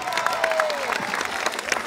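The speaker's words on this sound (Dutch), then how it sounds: "en nu applaus voor Klaas van Torno" Crowd applause at a cyclocross podium ceremony, the Steenbergcross 2014 in Belgium, for rider Klaas van Torno: steady clapping and cheering from an outdoor crowd, with a whistle-like tone sweeping through early on.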